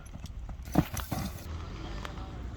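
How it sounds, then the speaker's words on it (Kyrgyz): Hooves of an arriving horse clop faintly on the ground, a few uneven strikes against a quiet outdoor background. The horse is bay with a white blaze and white hind legs. "Мына кийинки ат келип калды тугандар."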